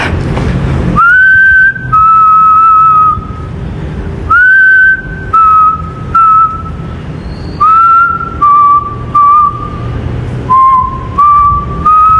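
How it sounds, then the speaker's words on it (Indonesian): Loud, close human whistling in an abandoned office, in a series of short melodic phrases, each rising then holding a steady tone, with brief pauses between. "kita coba bersiul ya"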